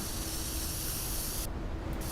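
A spray can spraying paint in a Breaking Bad video game gives a continuous loud, close hiss that runs for about a second and a half before cutting off, with no talking.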